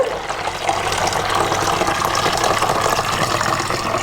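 Water runs steadily into a bottle during a simple home experiment on hydrostatic pressure, a continuous close-up pour with a gushing, filling texture and no talking.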